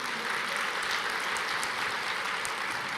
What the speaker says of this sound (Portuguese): Vamos aplaudir ao Senhor, isso é tremendo.